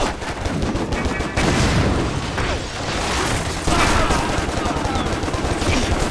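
Assault rifle fire in the shooter game Stranglehold, heard as dense, loud bursts of rapid automatic shots that run almost without a break, with game effects mixed in.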